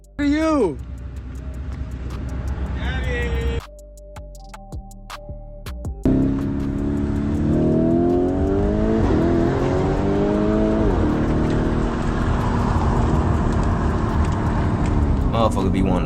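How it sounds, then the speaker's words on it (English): A car accelerates hard and speeds away, its engine note rising and sweeping upward over loud talking and background audio. "The dude in the other car yells something back and then speeds off."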